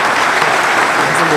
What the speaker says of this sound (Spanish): Un fuerte aplauso para este hermano.